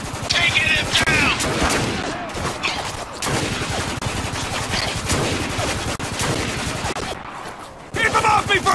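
Dense gunfire from the video game Spec Ops: The Line, rapid loud bursts and fusillades overlapping continuously with brief lulls, under shouted voices.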